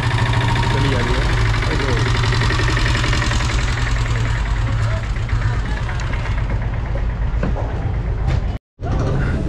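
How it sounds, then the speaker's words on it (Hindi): Ferry boat engine idling at Diu: a loud, steady low rumble with a mechanical knocking throb runs throughout, with faint voices mixed in and a brief dropout near the end. "तो भाई एक फेरी बोट यहाँ से आ रही है"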